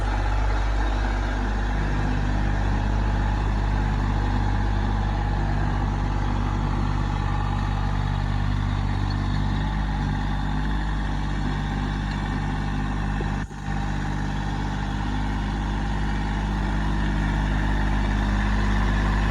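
A tractor engine idles steadily for the whole stretch, a loud, low, even rumble with one brief knock near the end and no talk over it.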